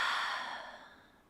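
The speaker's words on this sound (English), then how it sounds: "Breathe in here and exhale." A long, soft exhale during a yoga session, breathy and close, fading gradually over about a second with no talking.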